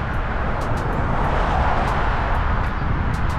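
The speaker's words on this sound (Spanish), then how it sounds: "Solo que hay mucho ruido por los carros" Car traffic rushes along a street near a public library as a continuous, fairly loud roadway roar, with faint ticks and clatters on top and no speech.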